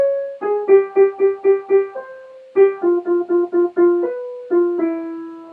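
Solo jazz piano states the melody of a standard, a clean single line of sustained notes in a steady, unhurried rhythm with brief pauses between phrases, close and clear with no talking.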